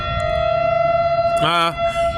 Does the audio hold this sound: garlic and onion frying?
no